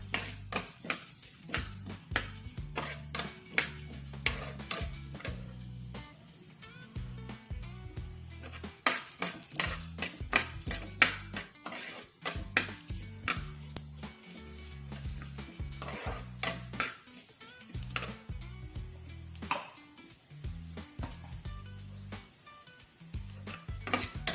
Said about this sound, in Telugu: 1 స్పూన్ జీలకర్ర వేసుకొని లైట్గా ఫ్రై చేసుకోవాలి.